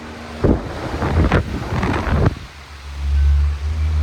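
A 2002 Patton U2-1487 box fan runs on high speed, its airflow buffeting close against the mic in gusty rushes, then settling into a deep, rumbling drone.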